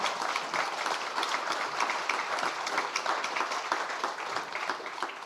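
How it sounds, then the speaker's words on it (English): Dense, sustained applause from a conference audience thanking panel speakers after a session on sanctions, export controls and business responsibility; steady clapping fills the room without letting up. "please join me in a round of applause to thank our speakers"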